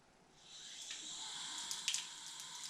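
Tap water running steadily into a kitchen sink being filled for washing dishes, a soft continuous hiss that swells after a quiet start and carries a few faint splashes and clinks near the end.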